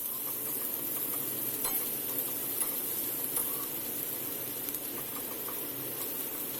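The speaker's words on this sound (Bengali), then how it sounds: "4 থেকে 5 মিনিট সময় নিয়ে পেঁয়াজটাকে আমি ভেজে নিচ্ছি।" Finely chopped onions frying in oil in a pan, a steady even sizzle with faint occasional clinks and stirring sounds, close and fairly constant, no speech.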